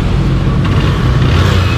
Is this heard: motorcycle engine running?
yes